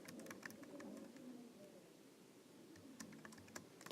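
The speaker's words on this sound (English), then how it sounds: "if I can type" Keys clatter on a computer keyboard in quick, light taps, a steady run of typing over a soft room hum.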